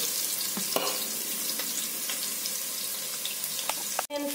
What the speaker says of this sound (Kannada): ಈಗ ಆನಿಯನ್ ಹಾಕುವ. ಒಂದು ದೊಡ್ಡ ಆನಿಯನ್ ತಗೊಂಡಿದ್ದೇನೆ.